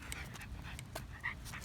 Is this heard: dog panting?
yes